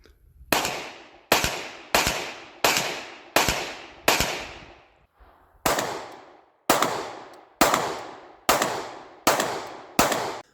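A pistol fitted with a Strike Industries Quad Comp compensator fires eleven sharp, loud shots in a steady rhythm, with a brief pause after the fifth, each crack followed by a short decaying ring outdoors.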